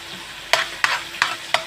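Garlic is stirred into a hot frying pan, four sharp scraping strokes landing at an even pace over a steady sizzle, close and fairly loud with no talking.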